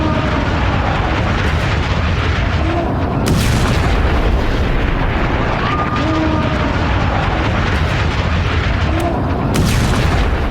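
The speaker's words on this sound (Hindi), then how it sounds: "ये तस्वीर देखिए कैसे एक कुछ क्षणों के अंदर ब्लास्ट ऐसा होता है कि पूरे पेट्रोल पंप से धुआं उठता हुआ पूरे कैमरे को ब्लॉक कर देता है" A petrol pump blast in news footage, heard as a dense, loud, rumbling roar with sustained low boom and debris-like noise throughout, no voices over it.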